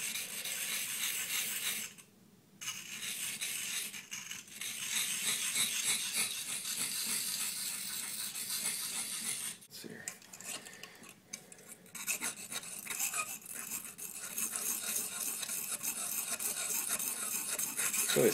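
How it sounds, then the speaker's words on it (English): A small antler-handled knife is sharpened by hand, a continuous close rasping and rubbing of blade on stone with brief pauses between strokes. "It's really a small knife too, so it's kind of hard to handle, at least now when I'm sharpening it."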